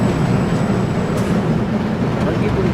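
The El Diablo roller coaster train in a game pulling out of the station with a steady rumbling, rolling rail noise that stays even and fairly loud throughout.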